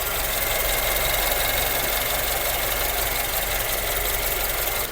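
MG Astor 1.5-litre four-cylinder petrol engine idling with a steady, close mechanical clatter and hum that holds evenly for the whole stretch, with no talking.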